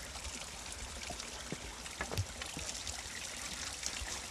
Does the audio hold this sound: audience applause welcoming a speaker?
no